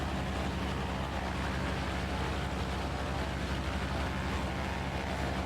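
Light twin-engine Seneca aircraft in flight, its engine drone steady and loud throughout, a constant broadband roar with low hum and no pauses or voices.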